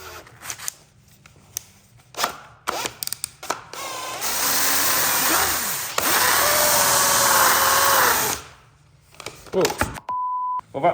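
Variable-speed power tool spinning a profile sanding wheel, whining steadily for about four seconds between bursts of talk and clatter, then stopping, followed by a short electronic beep.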